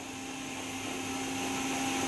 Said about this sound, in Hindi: मिक्सी है गाइस, मिक्सी।